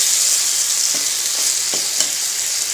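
Onions fry in oil with a dense, close sizzle, broken by a few soft stirring scrapes and taps as they are moved around the pan.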